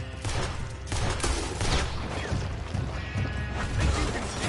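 Gunfire crackles in a video game shootout, with dense overlapping shots, impacts and crashes in a loud, busy stretch that never lets up.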